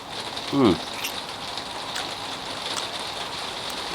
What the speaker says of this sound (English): And it's really starting to rain again.